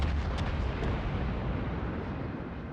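Naval gunfire in World of Warships from the cruiser Omaha firing on a battleship: a sustained, muffled roar of distant cannon blasts blending into a continuous rumbling wash, with a couple of faint sharper pops near the start.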